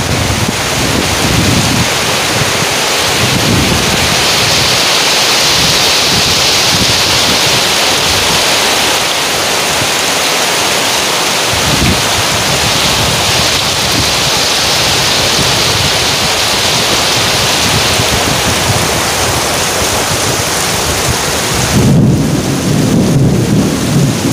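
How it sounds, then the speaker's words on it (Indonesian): Heavy rain pours down on a hut above a fish pond in a loud, continuous roar with no break, and low rumbles swell underneath at a few points. "Hujan deras sekali teman-teman."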